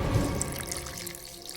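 Water poured steadily into a golden ceremonial platter, a continuous close splashing trickle with a slight dripping quality, fairly constant throughout with no talking.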